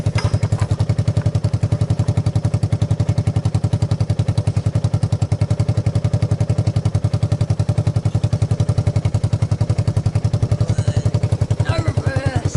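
Motorcycle engine during a ride, running steadily with a fast, even thumping pulse that stays loud and close throughout, with faint voices near the end.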